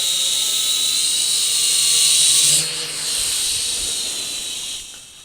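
JJRC H5P quadcopter drone flying nearby, a steady high-pitched whine and hiss from its props that shifts in pitch as it moves, fading slightly toward the end.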